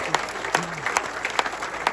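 Applause from the audience at a Luton Town football club awards evening, a steady patter of many hands with a few sharper claps standing out, moderately near and filling the whole moment.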